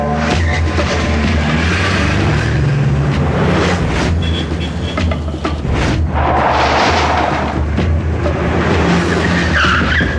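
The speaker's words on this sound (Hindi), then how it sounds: "गाड़ी स्टार्ट कर, चल।" Action-film car, loud and dense, roaring off with skidding, squealing tires and a booming, crashing soundtrack mixed in throughout, with no one talking.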